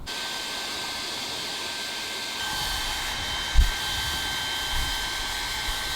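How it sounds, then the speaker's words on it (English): A hair dryer blows on freshly dyed pink hair at home, giving a steady close whooshing roar that stays loud throughout with a brief bump of handling noise partway, and no one speaking. "Let's blow dry it and style it and see what happens."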